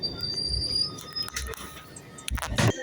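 A Glasgow Subway train pulling into a dark underground station, with a steady rumble of wheels on rails, faint high squeals and several short louder clatters and bumps toward the end.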